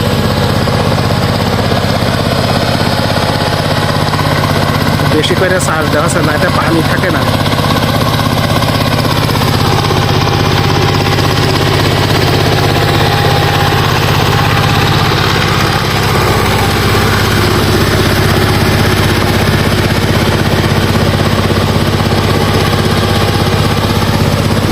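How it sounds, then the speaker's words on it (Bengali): A power tiller engine drones loud and steady while ploughing a field, its low rumble and vibration filling the whole stretch, with someone talking faintly over it. "পাওয়ার টিলার আসাতে খুব ভালো কত সুন্দর করে চাষ একেবারে ঘাস লতা পাতা বন মাটির সাথে একেবারে মিশাই এসেছে"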